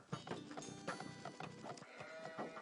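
Sheep bleat repeatedly in a match of the PC strategy game Age of Empires II HD, quiet overlapping bleats mixed with faint game sounds.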